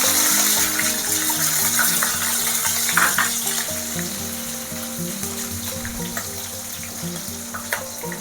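Onions and green chillies frying in a pan for ash gourd and lentil dal, a loud continuous sizzle with occasional stirring scrapes and small pops, close and unbroken throughout, with no talking.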